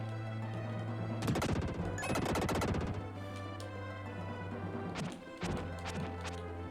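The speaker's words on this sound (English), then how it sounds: "And explosion!" Explosions in the Super Nintendo game Illusion of Gaia come as rapid crackling bursts of blasts over looping game music, with two dense rattling volleys early and a few sharper hits later.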